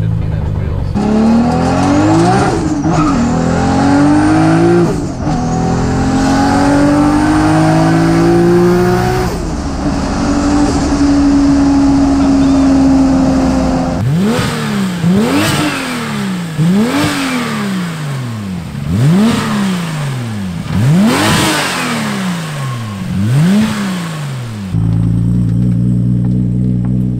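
A 1000-horsepower six-speed Toyota Supra pulls hard on a highway, its engine note climbing through several gears with repeated rising sweeps and sharp drops at each shift, loud and close from inside the car.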